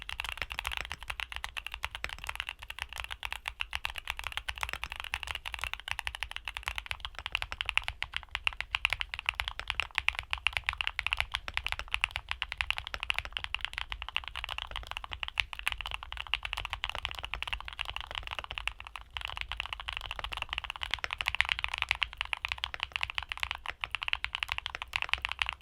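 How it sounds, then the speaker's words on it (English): Back-to-back typing tests of several creamy mechanical keyboard switches: continuous fast keystrokes recorded up close, deep and muffled, running unbroken for about twenty-five seconds without speech. "here are back-to-back sound tests for all the switches we covered today."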